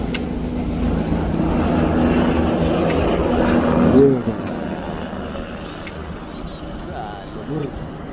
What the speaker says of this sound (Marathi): हेलिकॉप्टर बघा इथनं उडता, इथनं दिसेल लांब.